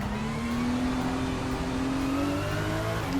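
Race car engine in a racing video game, held at a steady high rev with a whining tone as the wheels spin, loud and continuous with no talk over it.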